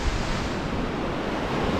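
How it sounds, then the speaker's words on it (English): Steady wind and surf roar along a North East England sea-fishing coast after a storm, a constant close wash of noise with no talking. "It's still a bit windy today"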